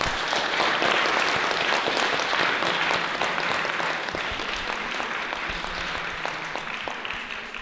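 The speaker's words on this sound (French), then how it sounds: "je pense qu'on peut vous applaudir" Audience applauding after a debate on war drones, a dense steady wash of many hands clapping throughout, slowly easing toward the end with no talk over it.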